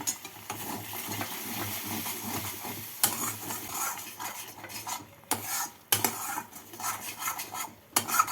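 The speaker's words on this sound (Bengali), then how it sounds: "ভালো করে মশলাটাকে কষিয়ে নিচ্ছি" Spice masala of coriander, cumin and Kashmiri red chilli powder with sugar being stir-fried over medium heat in a pan: a spoon scrapes and clinks steadily against the metal, with sharper knocks now and then, and no voices.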